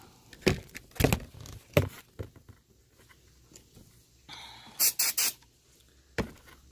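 A few short hissing bursts of throttle body cleaner spray in quick succession, preceded by scattered clanks and taps from nearby engine work.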